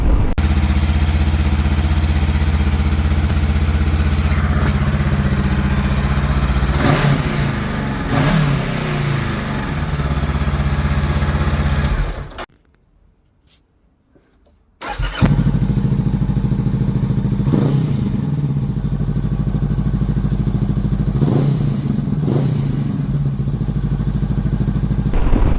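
A Honda CBR500 motorcycle with an aftermarket exhaust pipe drones loudly and steadily while riding, with revs rising and falling, briefly cutting to silence before the engine note resumes at full strength.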